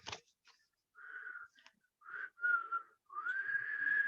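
A person whistles a few short, wavering notes, then a longer sustained tone rising toward the end, close and fairly clear with quiet gaps between phrases.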